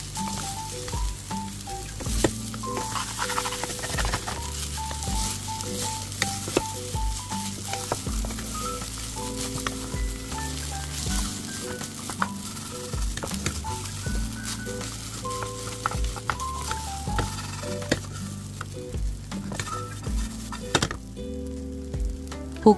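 Dried pollock shreds stir-fry in a pan, a steady close sizzle with soft scraping and stirring strokes running continuously and evenly for the whole stretch, with no talking.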